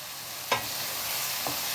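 Softened okra frying in a pan over medium heat, a faint continuous sizzle with two quick scraping stirs, the first sharper than the second, no one speaking.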